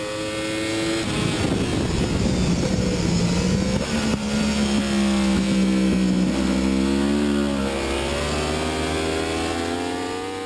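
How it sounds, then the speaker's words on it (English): Racing motorcycle engine carried through turns 1 and 2 on a track, a loud continuous roar whose pitch dips and climbs as the rider works the throttle from one corner into the next. "Let's listen to his motor carefully as he enters turn 1 and transitions to turn 2."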